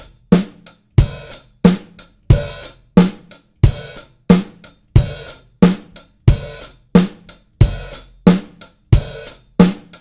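Drum kit groove with a steady backbeat and a hi-hat opening and closing, sharp hits repeating in an even rhythm for the whole stretch, close and loud with no talking.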